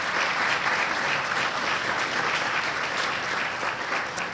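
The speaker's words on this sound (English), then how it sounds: "So a round of applause for them as well." Sustained applause from a dinner audience at an elementary school parent support organization event, steady and full with no break.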